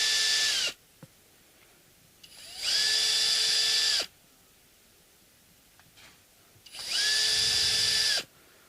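A power drill unscrews screws from a Fender Jazz Bass during refret work, three loud whirring bursts of about one to two seconds each separated by quiet pauses with faint handling clicks.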